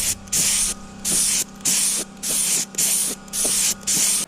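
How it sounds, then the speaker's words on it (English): An HVLP paint sprayer hisses in seven loud, close bursts of roughly half a second each while painting RTA kitchen cabinet panels, with short gaps between passes. "when you're spraying, of course, make sure that you're constantly moving. Don't stop while it's spraying."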